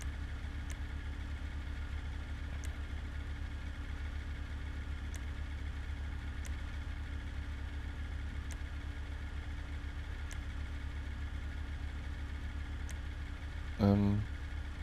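A Menacer armored vehicle with its stock exhaust idles in Grand Theft Auto V, giving a steady, low engine rumble throughout with faint periodic ticks and a brief louder blip near the end.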